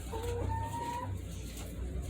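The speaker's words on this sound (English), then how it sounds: "the next animal that we got on the farm, guys, were chickens, actually layer chickens" Layer chickens on a Jamaican urban farmstead cluck nearby, a few short drawn-out calls over a steady low background hum, no talking.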